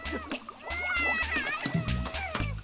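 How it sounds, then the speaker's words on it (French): A cartoon sauce spill splashes and splatters in short wet bursts, mixed with animated character voices and lively sound effects in a brief, busy moment. "Ça a un peu éclaboussé"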